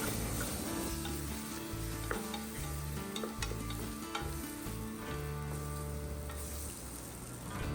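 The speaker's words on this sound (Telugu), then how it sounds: "పచ్చి వాసన పోయే వరకు బాగా వేయించుకోండి మసాలాని." Spice masala for mutton curry frying in a pan, with a loud continuous sizzle and repeated stirring scrapes and clicks of a spoon, nearby and with no speech.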